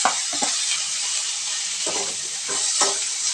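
Tomato is added to a vegetable kurma cooking in a pan. A close, continuous sizzle runs throughout, broken by several short scraping stirs of a spoon.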